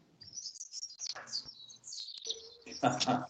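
Birds chirp and tweet outdoors in a garden, a series of thin high calls coming and going at moderate distance, with people talking over them at times.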